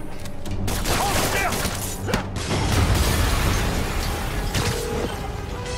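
Explosion in the video game Spider-Man PS4, a dense booming, rumbling blast with crackling debris and mechanical rattles, loud and sustained throughout.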